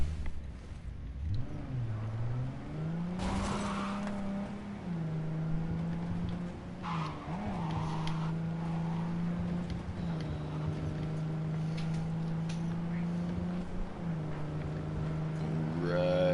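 A car drives through the Cyberpunk video game world, its engine holding a steady low hum that rises and settles as it accelerates, with a couple of brief impact thumps along the way.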